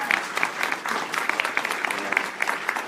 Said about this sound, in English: Let's have another round of applause for John and Brent